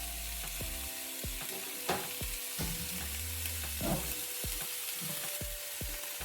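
Vegetables sizzle and crackle steadily in hot olive oil in a crock pot, with occasional knocks and scrapes of a utensil stirring through them.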